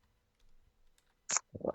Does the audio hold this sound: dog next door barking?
no